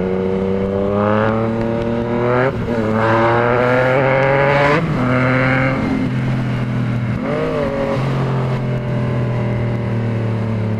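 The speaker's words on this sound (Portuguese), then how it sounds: "Essa moto é monstra demais, velho." Powerful motorcycle revving hard through the gears on a street with speed bumps, a loud, close engine note rising and falling in repeated pulls with brief shifts between them, no talk over it.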